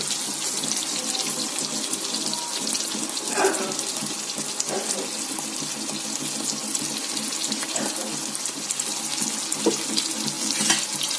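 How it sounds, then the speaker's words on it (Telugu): Steady running tap water splashing continuously into a sink, with occasional louder splashes as something is rinsed under the stream. "ఇదిగోండి వాటర్లో బాగా కడుక్కోవాలి"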